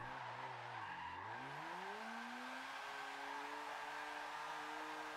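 Tires squeal steadily as a Mazda RX7 drifts in Forza Motorsport 7, the engine note dipping then climbing in pitch as the throttle builds, loud and continuous with no talking.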